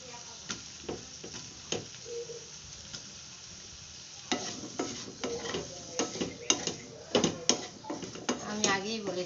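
Potatoes and Malabar spinach stems sautéing in a little oil in a pan, with a low sizzle under frequent scraping and clinking spoon strokes that grow busier and louder partway through.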